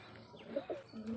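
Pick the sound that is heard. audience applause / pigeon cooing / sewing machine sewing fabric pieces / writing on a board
pigeon cooing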